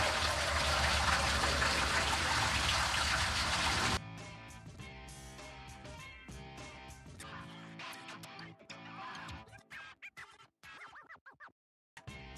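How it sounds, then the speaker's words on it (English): Water drains out of a rainwater collection tank in a steady loud gush, then thins into intermittent trickles, splashes and scraping sounds. "what I want to do now is drain this"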